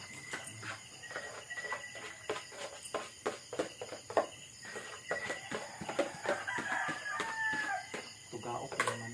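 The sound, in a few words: rooster crowing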